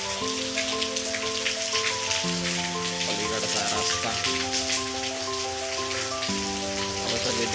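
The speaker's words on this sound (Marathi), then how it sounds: "पाऊस चालू आहे" Steady monsoon rain pours down over a village in Maharashtra, India, in a dense, continuous hiss, with soft tonal music playing faintly underneath.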